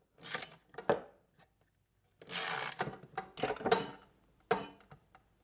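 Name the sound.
ratchet tightening trimmer edger blade bolt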